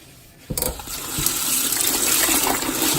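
Tap water gushes loudly and steadily in a home kitchen as spinach is rinsed, starting abruptly after a short quiet moment and then running continuously.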